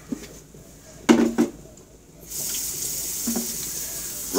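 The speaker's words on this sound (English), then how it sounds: "we're gonna have to use some water" A kitchen tap opens and water runs steadily into a sink after a couple of knocks and clatters, close and fairly loud, with no one speaking.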